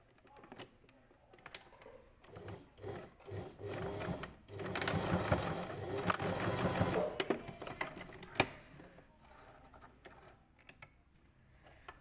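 A sewing machine stitches a puff sleeve sample in bursts of rapid mechanical whirring, starting and stopping several times, with one long continuous run in the middle, fairly close and moderately loud.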